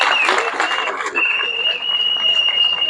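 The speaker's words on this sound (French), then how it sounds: "Applaudissez." Applause rises in a union general assembly hall, many hands clapping in a dense, fairly close burst, with a voice and crowd murmur mixed in.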